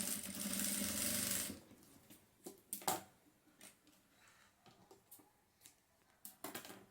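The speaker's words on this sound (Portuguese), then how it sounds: "agora eu vou passar uma costurinha de segurança em cima dessa peça aqui" A sewing machine runs a continuous safety seam along the edge of denim scraps for about a second and a half, then stops. Scattered light clicks and handling sounds follow at close range.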